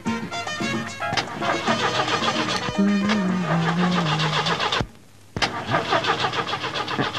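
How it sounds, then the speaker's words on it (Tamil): A taxi engine cranks repeatedly without catching, loud and close, with a pause near the end before the grinding starts again; no one talks over it. "ஏப்பா டிரைவர், வண்டி எப்பப்பா ஸ்டார்ட் ஆகும்?"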